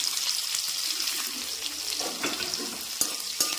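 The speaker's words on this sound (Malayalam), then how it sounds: "ഇതിലേക്ക് നമ്മൾ കുറച്ച് സവാള ഇട്ട് നമ്മൾ മൂപ്പിച്ചെടുക്കും കേട്ടോ" Sliced onions fry in hot oil in a pan with a steady, close sizzle and a few sharp clinks and stirring knocks near the end.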